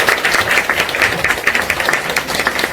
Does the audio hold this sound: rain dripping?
no